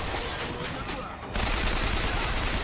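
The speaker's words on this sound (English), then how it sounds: "Hey, who's shooting at me?" Gunfire in the video game BioShock Infinite, a dense, loud burst of rapid shots that swells sharply partway through and continues steadily to the end.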